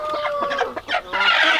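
A hen clucks close by in a short, lively run of clucks and squawks, loud and clear with no talking.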